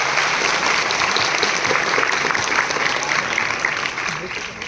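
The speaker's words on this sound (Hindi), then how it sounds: "यार ताली बजाओ यार" A college freshmen orientation audience claps loudly and continuously in a hall, a thick unbroken roar of hands with some crowd chatter mixed in, fading slightly at the end.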